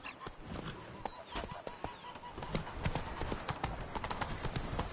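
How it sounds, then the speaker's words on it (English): Horse hooves galloping in the video game The Witcher 3: Blood and Wine, a steady rapid clip-clop of close hoofbeats running continuously with faint background game ambience. "Even a horse drops if you ride it at a constant gallop."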